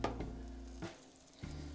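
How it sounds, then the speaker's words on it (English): Scallops sizzle in a hot oval cast iron skillet, a soft, quiet frying hiss with a few brief stirring or shifting sounds over a low background hum. "When you hear that little sizzle, you know, you can tell it's hot enough."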